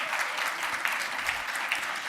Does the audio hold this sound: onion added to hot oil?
no